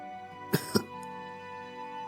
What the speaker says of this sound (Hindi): खांसी है और कुछ नहीं।